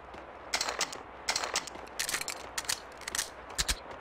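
Gunshots in Max Payne 2 sound as several sharp bursts spaced across a few seconds, some in quick doubles, fairly faint under a low steady background hum, with no talking.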